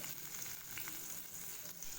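A soft, steady sizzle of onions frying in hot oil, faint and continuous with no voices.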